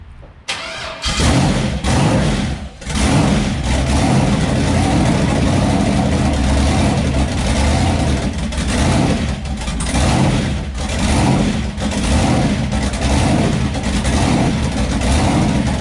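A twin-turbo LS V8 swapped into a Chevrolet S10 pickup fires on its first start, catching after a second and then running loud and close for the rest of the stretch with a rough, uneven idle and occasional throttle blips.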